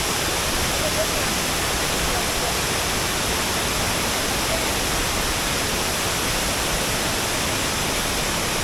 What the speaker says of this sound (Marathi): आणि खूप सुरक्षित असा हा धबधबा आहे